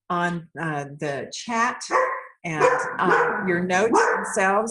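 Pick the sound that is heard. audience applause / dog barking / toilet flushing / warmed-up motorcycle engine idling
dog barking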